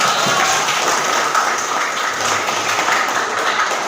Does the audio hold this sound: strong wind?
no